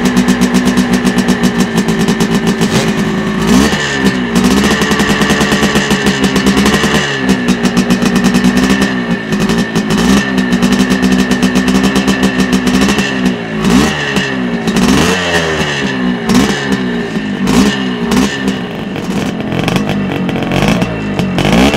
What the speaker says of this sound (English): we're back to the two-strokers again, and this particular Bultaco 250 Purslane belongs to Kenny Harper